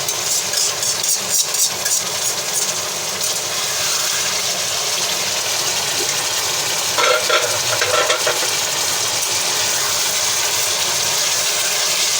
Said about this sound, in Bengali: সাবধানে নাড়াচাড়া করতে হবে